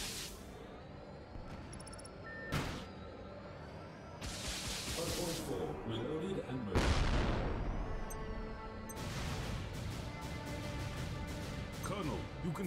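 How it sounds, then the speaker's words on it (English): Particle cannon shots boom and crash in a naval combat video game, several loud impacts spread over a busy mix of game effects and a radio-style voice. "You can sink any LCS with only one shot of the particle cannon."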